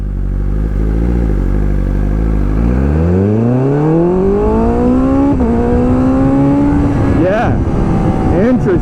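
A BMW S1000RR motorcycle with its wheelie control adjusted accelerates hard and loud up close, the engine note climbing steeply, with quick gear changes near the end as the revs keep rising.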